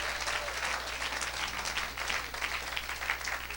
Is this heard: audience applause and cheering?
yes